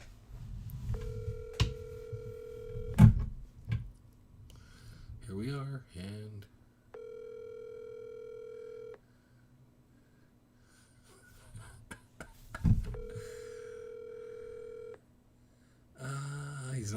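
An in-game phone call rings back three times, each a steady electronic tone of about two seconds with long pauses between. Someone talks over background noise around the rings.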